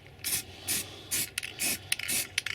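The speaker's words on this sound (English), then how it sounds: "I'm just using a grey acrylic spray paint." Several short bursts of grey acrylic spray paint hiss out one after another onto a model railway piece, with quicker, choppier sprays near the end.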